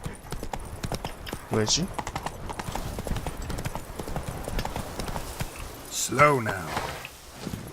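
Hooves of Roach, the horse in The Witcher 3: Blood and Wine, clip-clop in a brisk, even rhythm close by, with a couple of short whinnies and someone speaking briefly over them.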